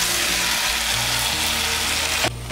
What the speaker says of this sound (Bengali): আলু আর পটলটাকে মশলার সঙ্গে ভালো করে মিশিয়ে নেব। মিশিয়ে নিয়ে একটু মশলার সঙ্গে কষিয়ে নেব।